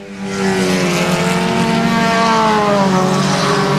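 Race cars roaring down the back straight of I-37 Speedway, a loud sustained engine drone with rising and shifting pitch as the pack passes close by.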